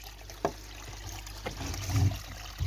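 Water trickles steadily through a garden pond's plant bog filter, a faint continuous flow broken by a few soft splashes and knocks.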